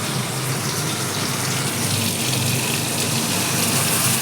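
Liquid is poured steadily into a yogurt and spice paste for a chicken curry, a loud continuous gushing splash that lasts the whole stretch without talking.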